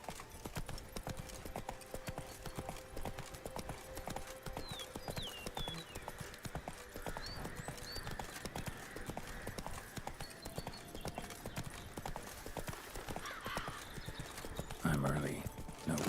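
Hooves of Roach, the horse in The Witcher 3, clip-clopping at a steady gallop throughout, moderately loud, with a brief burst of other game sound near the end.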